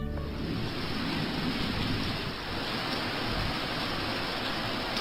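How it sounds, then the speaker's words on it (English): Heavy rain falling steadily, a loud, dense and continuous hiss that stays even throughout with no voices. "This is rain."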